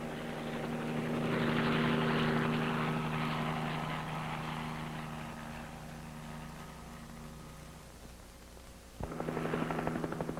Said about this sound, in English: The helicopter goes to the near end of the telephone line to be established.